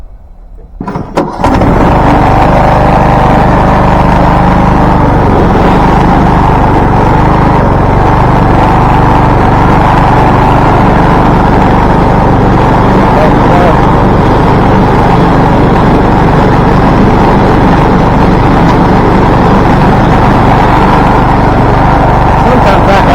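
A Craftsman T1600 lawn tractor engine sputters to life after a brief quiet moment, then runs loud and steady for the rest, a close, constant rumbling idle.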